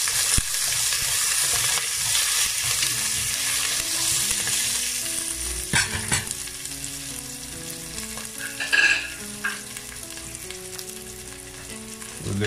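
Crushed garlic and green chili fry in a pan for zucchini curry, a loud continuous sizzle with occasional stirring scrapes and clatters, while soft music plays beneath and no one speaks.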